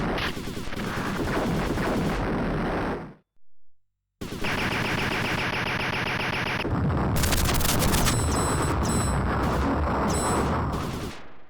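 Rapid gunfire from a pre-NeoGeo SNK arcade shooter, loud bursts of rattling shots that drop out briefly for about a second, then return with chiming pickup tones and dense overlapping fire.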